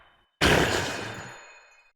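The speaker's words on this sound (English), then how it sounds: "There's also a new sound for using a dye item." Minecraft dye item use sound effect: a single sudden bright burst that starts sharply and decays smoothly over about a second and a half, loud and alone.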